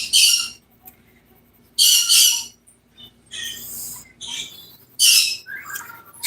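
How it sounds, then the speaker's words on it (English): Pet birds indoors let out loud, shrill squawks and screeches in repeated bursts, with quieter chirps and rustling between the outbursts. "my birds are going so bonkers out about"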